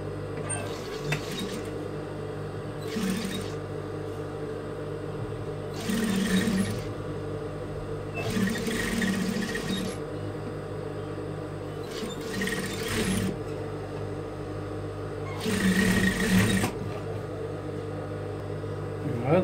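A sewing machine stitches the front and back of a small djellaba together in several short whirring bursts separated by pauses, over a steady low background hum.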